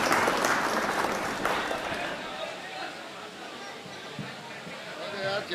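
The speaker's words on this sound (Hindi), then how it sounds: "आप जोरदार तालियों से इस्तकबाल करें भाई काशिफ रज़ा का" Loud, dense applause from an audience at an All India Mushaira poetry gathering in Harra welcomes a poet to the stage, swelling at the start and then tapering gradually to a quieter patter.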